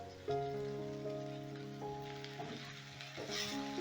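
Masala sizzling and frying in a pan with tomato as kasuri methi goes in, a steady close hiss with stirring; a few tonal hums sit underneath.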